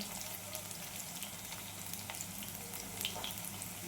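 Small shallots sauté in a pan for a village-style dried fish curry, a soft, steady crackling sizzle with faint spatter, heard close and alone.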